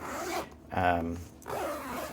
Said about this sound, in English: I like the Vault X binders. Again, they have the zipper.